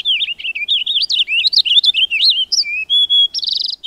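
A female purple finch on Vancouver Island chirps in a rapid run of high, thin tweets and short trills that sound close and clear, with no other sound behind them.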